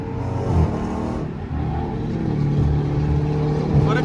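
A Dodge Hellcat or Scat Pack accelerates on the freeway with a deep, sustained engine roar and rising revs, heard from close by inside a moving car.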